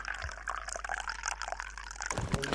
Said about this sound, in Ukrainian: Заливаю масло